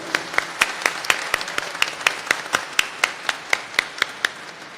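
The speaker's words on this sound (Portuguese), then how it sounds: "peço uma salva de palmas em memória da Dalva Lazzaroni." Rhythmic, evenly spaced hand claps from an audience at a public hearing in a state legislative assembly, about four sharp claps per second in a steady beat over a soft room background.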